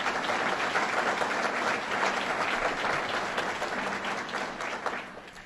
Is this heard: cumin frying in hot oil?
no